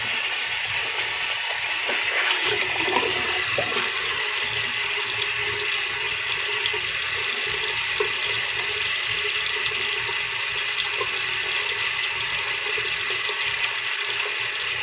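Water rinses through a Kennedy & The Griffon Double X coffee grinder in a steady, loud, continuous rush, like a running faucet, with no talking.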